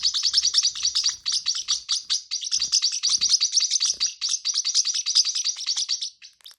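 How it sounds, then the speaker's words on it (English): Sierra parakeets chatter loudly in rapid, continuous bursts of high chirps, a busy overlapping squabble that tapers off at the end. "they started to do this very loud, quick chatter at each other"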